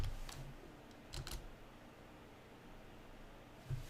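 A few scattered, faint computer keyboard keystrokes come close up, typing a search in Microsoft Word over quiet room hiss, with a clustered burst early and one final tap, and no talk.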